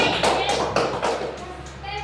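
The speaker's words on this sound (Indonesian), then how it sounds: "Tepuk tangan dulu kalau gitu" A classroom of children claps together for a presenting group, a few rhythmic rounds of close, bright hand claps about a quarter second apart, fading slightly toward the end.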